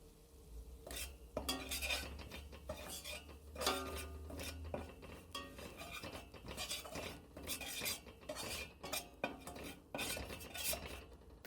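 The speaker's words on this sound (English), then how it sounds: "When it's hot, add the curry powder and stir." Utensil scraping and clinking against a pot in irregular strokes as curry powder is stirred into hot oil, over a soft sizzle, close and fairly quiet.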